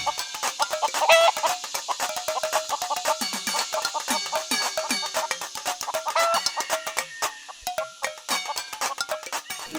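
A flock of chickens clucks continuously at a coop, a dense, busy chorus of overlapping clucks and squawks with scratchy rustling throughout, fairly close.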